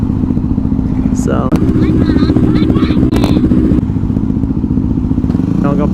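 Motorcycle engine running steadily under a rider's voice on the way to a gas station, with clatter and a few thumps mixed in throughout.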